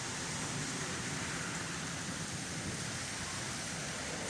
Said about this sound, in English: Thunderstorm in Santa Ponte Park, 3 or 4.